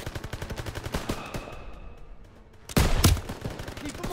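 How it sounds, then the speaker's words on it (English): Rapid machine gun fire from a Call of Duty WW2 battle, dense bursts of rattling shots up close, pausing briefly before a louder, heavier volley erupts and continues. "MGs, open fire."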